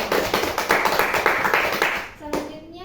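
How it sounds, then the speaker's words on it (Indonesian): A group of students claps hands together in a classroom during a group guidance session, a dense burst of rhythmic clapping that fades out near the end, followed by a brief voice. "Oke, tepuk tangan dulu."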